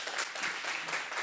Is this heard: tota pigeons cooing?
no